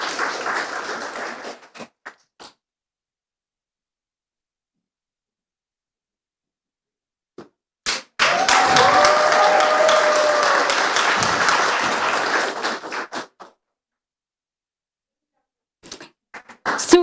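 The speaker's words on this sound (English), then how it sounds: "Once again, round of applause." An audience at a startup demo day bursts into loud, dense applause for about five seconds, ringing out close and full before fading, with short bursts of clapping before and after, and a voice calling out over it.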